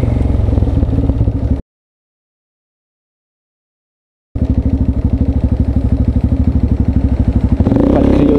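A motorcycle riding through a roundabout: a loud, steady engine drone with rapid rhythmic pulsing, briefly cutting out entirely before resuming at full level, a slight rise in pitch near the end.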